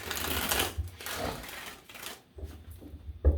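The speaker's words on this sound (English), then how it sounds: "We're gonna give this 2 more shuffles for a total of 3" A tarot deck is shuffled by hand with two quick riffling bursts of rapid card flutter, close and fairly loud, separated by a short pause and ending in a soft tap.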